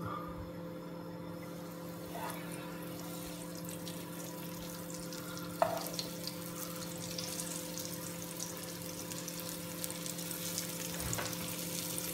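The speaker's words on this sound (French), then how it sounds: "Et maintenant, je vais faire dorer ma viande." Veal browning in hot olive oil makes a steady, moderate sizzle and frying crackle, with a low constant hum underneath and a few small clatters. No one speaks.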